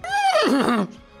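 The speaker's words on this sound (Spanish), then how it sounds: "Aparece aquí el caballo esqueleto" A skeleton horse in the One Piece anime gives a loud, close neigh lasting about a second, starting high and strained and then dropping into a wavering, throaty whinny before cutting off.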